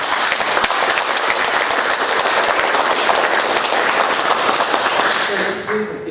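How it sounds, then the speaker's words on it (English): Applause fills a room at a civic leadership forum, brisk dense clapping from a seated audience that carries steadily for about six seconds and then starts to thin out, with a little talk showing through near the end. "So let's give a round of applause to"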